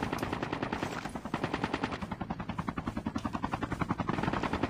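A helicopter's rapid rotor thumping pulses steadily through a Call of Duty match on a mobile phone, mixed with bursts of machine-gun fire, with no talking.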